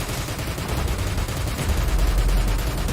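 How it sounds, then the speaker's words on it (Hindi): Rapid sustained automatic gunfire fired in celebration in Metal Gear Solid 5, a dense continuous rattle of shots that runs loud throughout without pause, with a heavy low rumble underneath and no voices. "जीत की खुशी में फायरिंग"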